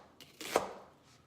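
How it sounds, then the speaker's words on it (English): A knife dices romaine lettuce on a cutting board, one or two quick, soft chops, faint and brief. "dicing the romaine."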